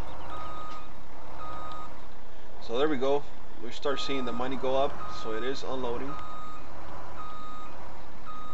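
A truck reverses with steady repeating backup beeps in the Farming Simulator 17 video game, the tones running throughout under a voice as he talks.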